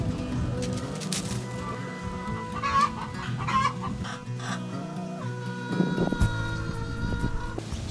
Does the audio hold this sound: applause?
no